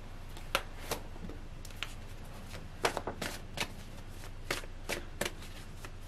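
Angel romance tarot cards shuffled by hand in quiet, irregular bursts of crisp riffling and slapping, close and alone.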